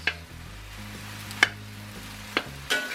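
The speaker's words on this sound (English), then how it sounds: "break that up real good and stir fry that rice" Rice with vegetables and bacon being stir fried in a pan, a faint sizzle under several sharp spatula clacks against the pan.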